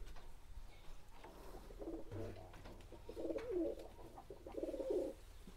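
Siraji pigeons, a fancy breed, coo in soft, low rolling phrases inside their loft. Faint at first, the calls grow louder and more continuous toward the end, with no speech.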